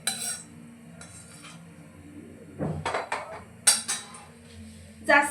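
A metal kadhai is moved about in a home kitchen as oil goes in for Kolhapuri misal masala, with several close, loud clanks and scrapes of metal on metal separated by quieter stretches.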